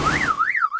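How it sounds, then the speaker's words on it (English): A warbling electronic alarm tone in an animated children's cartoon, sweeping up and down in two quick cycles, loud and close, with no voices over it. "Like an alarm signal"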